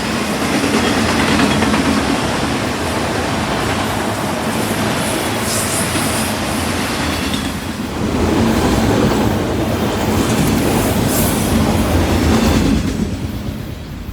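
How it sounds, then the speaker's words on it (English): A long freight train including a Burlington Northern auto rack car rolls steadily past at close range, a loud continuous rumble of wheels and cars with faint clickety-clack, surging briefly before easing off near the end. "There was also this cool Burlington Northern auto rack in the consist."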